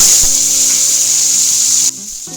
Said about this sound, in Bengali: তো হালকা হাতে সবজিগুলোকে তেলের সাথে একটু ফ্রাই করে নেবো